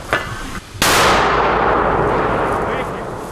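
A single heavy 120 mm mortar launch booms out abruptly, followed by a long rolling decay, with faint outdoor noise and a brief voice beforehand.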